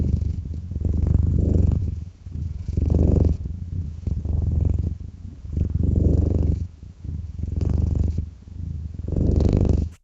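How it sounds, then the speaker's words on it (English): Synthetic cat purring in a steady, rhythmic cycle, each low rumbling breath swelling and easing about every second and a half, close and continuous with no other sounds. "A cat stretching and purring."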